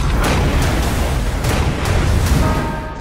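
Cannon fire in a period seafaring movie trailer: a dense, loud, continuous roar of booming blasts with rumbling low end, sustained throughout with no clear gaps.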